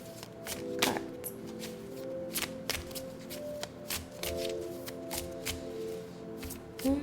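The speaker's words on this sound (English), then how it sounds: "Sing while they are shuffling cards?" Playing cards being shuffled in repeated quick riffles, crisp fluttering bursts with sharp taps between them, close and fairly steady over a low background hum.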